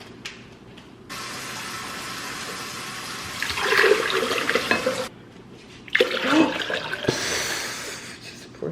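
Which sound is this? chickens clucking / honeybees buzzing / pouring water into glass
pouring water into glass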